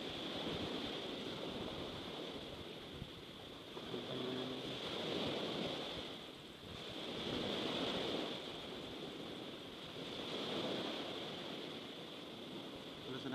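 Sea waves wash in and recede in slow swells, with steady surf hiss and some wind noise across the microphone.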